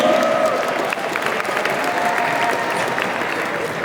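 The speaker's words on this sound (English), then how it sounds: "applause to plus ones" A holiday party crowd at a New York venue applauds the plus ones, a dense wash of many hands clapping steadily at a distance, blended with a murmur of voices and room noise.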